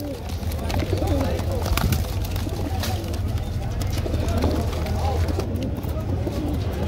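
Pigeons cooing at a crowded Baghdad bird market, low repeated coos and fluttering amid busy market noise while vendors talk nearby.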